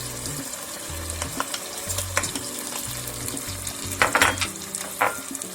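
Onions, tomato paste, red lentils and rice stirred in a pot for soup, with a steady sizzle, soft spoon scrapes and a few louder clanks near the end, close by, with no talking.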